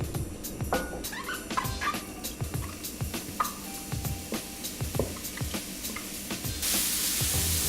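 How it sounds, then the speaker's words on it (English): Mushrooms sizzle in porcini-infused olive oil in a pan with a soft, steady crackle, broken by scraping stirs and clinks, and a louder hiss toward the end. "Just going to give them a little stir around the pan, get them cooking"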